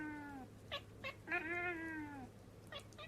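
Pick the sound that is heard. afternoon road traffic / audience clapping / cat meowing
cat meowing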